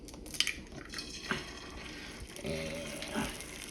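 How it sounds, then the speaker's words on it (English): A store-bought egg dropped into butter in a skillet, giving a steady close sizzle with a few clinks of utensils and pan near the start. "Drop it in the skillet."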